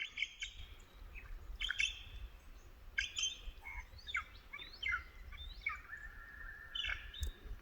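A lyrebird mimics other birds: varied calls, chirps, whistles and trills in quick succession, fairly faint over a low rustling background, running through many songs.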